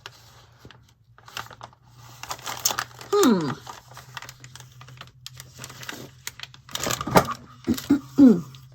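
Paper rustles and crinkles on a craft table during December Daily scrapbooking, with sporadic handling bursts, a couple of sharper tearing or sliding sweeps, close and moderately loud, and quiet talk here and there.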